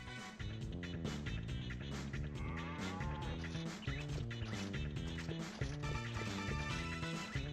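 Cow mooing in the video game Fullmetal Alchemist 3, repeated low bovine moos layered over game music and clattering hit sounds, loud and continuous without any speech.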